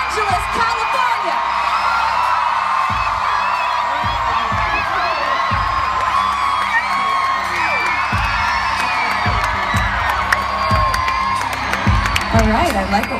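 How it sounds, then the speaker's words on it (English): Concert crowd at the Hollywood Bowl in Los Angeles cheers loudly, sustained screams, whoops and shouts from a large audience, with a few thumping beats. "How is the crowd volume here tonight,"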